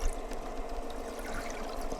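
Gondola passing, picked up underwater by a hydrophone: a continuous watery wash and gurgling churn with a low steady rumble, moderately loud and unbroken.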